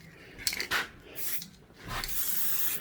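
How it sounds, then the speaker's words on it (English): Paint spray gun giving short test bursts while refinishing parts for a custom Harley-Davidson chopper, a couple of brief hissing blasts then a longer sustained spray, close and loud, with no talk. "And let's have a test spray."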